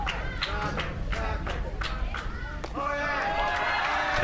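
A Michigan crowd at a Junior League Baseball championship game against California cheers and claps in rhythmic bursts, swelling louder toward the end, under an announcer's steady commentary.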